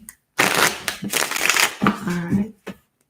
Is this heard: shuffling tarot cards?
yes